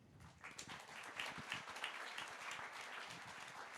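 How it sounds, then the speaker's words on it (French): Audience clapping for the deputy mayor of Montpellier at a round-table event, a brief burst of steady applause rising quickly and holding, fairly faint and distant. "Merci de l'applaudir."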